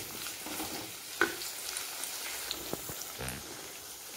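Tomatoes frying in sesame oil for a Tamil brinjal kara kuzhambu, a steady soft sizzle with light stirring taps and a few small pops, close and quiet, no talking.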